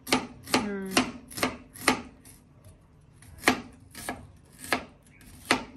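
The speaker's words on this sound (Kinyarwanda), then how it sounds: "ugerageza gukata igitunguru kimeze nk'aho kiri hashe duto duto" A knife chops onion finely for chapati dough on a board, giving a series of sharp, evenly spaced close taps with a brief scraping sound between early strokes.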